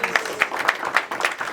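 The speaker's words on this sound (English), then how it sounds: "Let's give him a round of applause." Brief applause from a sales meeting audience, a short burst of rhythmic clapping with distinct claps standing out, lasting under two seconds.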